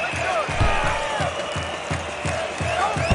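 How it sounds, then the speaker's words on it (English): Stadium crowd in the FIFA World Cup 2002 PC video game booing in a steady, dense roar that fills the whole stretch, with rhythmic low thumps beneath it. "Listen to the crowd, not very happy about that."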